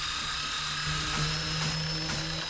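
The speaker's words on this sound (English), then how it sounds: "You still need a little bit of grinding and a little bit of polishing." A metal part for hose clamp tools being ground and polished gives a steady, continuous high-pitched whine with a low hum underneath, holding level throughout.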